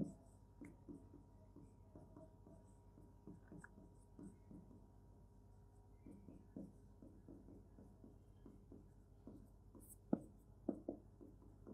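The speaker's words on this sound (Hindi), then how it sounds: "मैकलेलन सीरीज का फॉर्मूला लिख रहा हूँ" A pen scratching on paper while the Maclaurin series formula is written out in a math lesson, a steady run of faint, quick strokes and taps with a couple of sharper ticks near the end.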